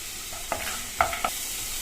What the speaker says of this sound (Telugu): క్యాబేజీ, క్యాప్సికమ్, క్యారెట్ ఇవన్నీ వేసాక బాగా కలుపుకోవాలి.